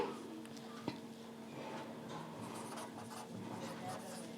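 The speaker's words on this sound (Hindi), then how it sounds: "तो अब यही लिखेंगे" A pen scratching out a Class 9 maths probability solution, steady soft scraping strokes close by at low level, with faint speech and a steady hum behind it.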